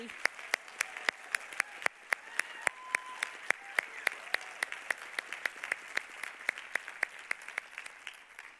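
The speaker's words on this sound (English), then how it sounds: "Let's give one more round of applause for our student speakers and Mr." A small, sparse audience at a Class of 2020 graduation ceremony claps, with distinct individual claps standing out over a soft, quiet background.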